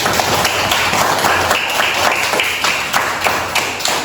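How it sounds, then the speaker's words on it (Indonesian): Close, energetic clapping from a group of schoolchildren in a classroom, steady and fairly loud with a few sharper individual claps standing out. "Beri tepuk tangan lagi"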